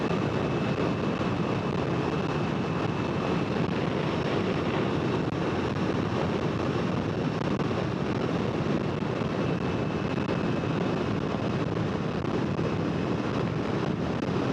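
Steady roaring wind buffets the microphone for the whole stretch, a dense, unbroken rush of noise from riding a Ducati Multistrada V4 Rally motorcycle fast at about 130 on a highway.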